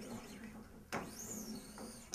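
A part of a Balanced Body Cadillac frame slides down with a sharp metallic clunk near the middle and a smaller knock at the end, amid quiet rattles and faint workshop noise.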